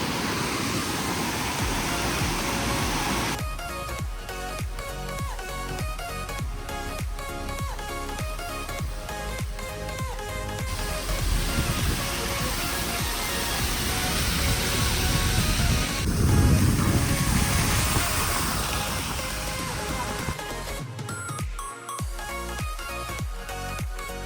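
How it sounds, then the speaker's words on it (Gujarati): A small waterfall in Mahabaleshwar gives a continuous broad rushing wash of falling water, loud and close, swelling slightly midway with a few faint clicks near the end. "એક નાનું માનું વોટરફોલ છે."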